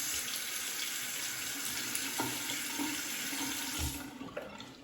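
Cold water runs steadily from a tap in a continuous hiss, with faint handling clatter as an alum block is held under the flow; the stream eases off near the end.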